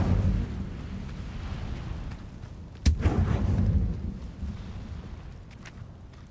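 A fire spell cast in Hogwarts Legacy erupts with a single sudden blast followed by a rumbling, crackling roar that fades over a couple of seconds against a steady low background.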